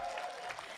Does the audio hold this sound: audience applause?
yes